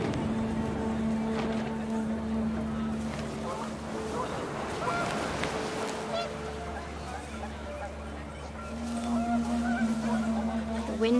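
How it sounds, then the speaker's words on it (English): Panicked geese honk in the video game What Remains of Edith Finch, a repeated honking over wind and a low rumble, with a narrator talking over it. "panicked geese appeared and quickly went"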